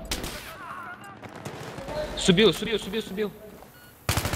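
Gunfire in a competitive tactical shooter video game, a few rapid shots and bursts heard under a player talking, with a louder shot at the end.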